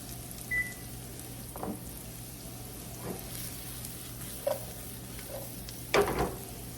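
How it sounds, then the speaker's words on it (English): Mixed vegetables sizzling in a hot pan over a high gas flame, a constant low hiss broken by a few sharp scrapes and clacks of stirring, with no voices. "the veggies have been cooking for about 3 minutes"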